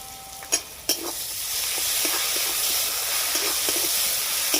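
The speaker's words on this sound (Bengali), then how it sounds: "এর মধ্যে দিয়ে দেব আমি আদা রসুন বাটা 2 চামচ" Ginger-garlic paste and onions sizzle in hot oil for a curry, a steady frying hiss with a couple of sharp clinks early on and light stirring scrapes throughout, no voices.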